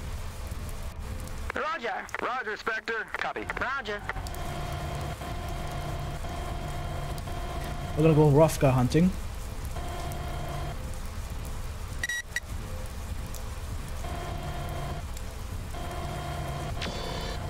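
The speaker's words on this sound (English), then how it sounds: "That rain, by the way. I think that they stole that rain straight from Tarkov. It's so loud." Steady, loud rain hissing throughout a MechWarrior 4: Mercenaries game scene, with radio-style voices talking over it near the start and a brief burst of game sound midway.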